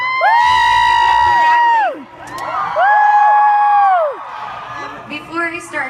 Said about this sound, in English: One more applause for Sugar, too.